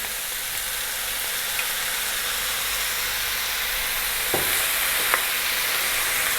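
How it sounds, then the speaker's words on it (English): A can of tomatoes poured into a hot pan with baked beans sizzles in a steady, loud hiss, broken by a couple of sharp scraping stirs near the end, with no talk. "We're now going to add 1 can of tomatoes."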